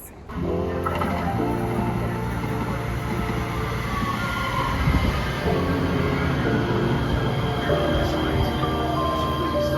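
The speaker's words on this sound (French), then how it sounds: "C'est la première fois qu'on va prendre le métro." A Los Angeles subway train rumbles and rattles along the tracks, a loud steady roar with metallic clatter and faint voices beneath it.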